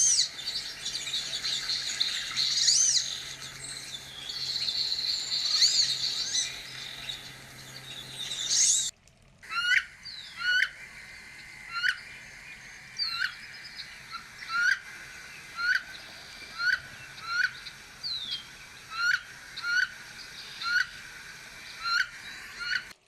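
Ducks call outdoors: a loud run of high squealing cries gives way after a brief gap to a repeated series of soft, short rising wheezy whistles spaced regularly apart.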